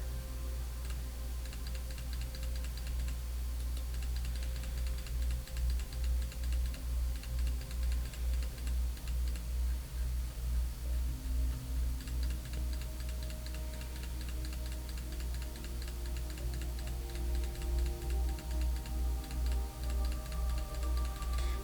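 Steady mouse clicks tick along through a long stretch of digital drawing, rendering a Genshin Impact character. The clicks are small, close and fairly regular, set over a constant low hum with no talking.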